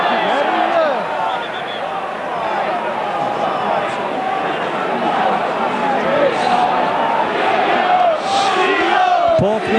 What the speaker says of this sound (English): The crowd not happy with some of the referee's decisions.